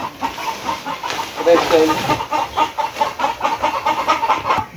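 Backyard chickens clucking noisily in rapid, uneven bursts, close and steady throughout, with a person talking over the flock.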